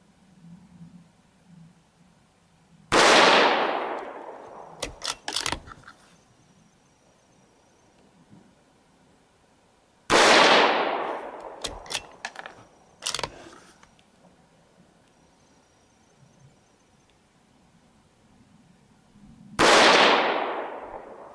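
Three sharp rifle shots from a Tikka T1X in 17 HMR ring out several seconds apart, each a loud close crack with a decaying tail followed by a few small metallic clicks, and no talk.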